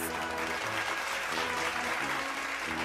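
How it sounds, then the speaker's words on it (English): Sustained applause from the audience at a senior high school commencement ceremony for graduates, a steady, even wash of clapping from a large crowd, moderately distant, with a faint hum beneath. "Let's give them a resounding round of applause."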